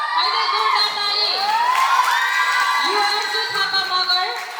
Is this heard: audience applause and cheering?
yes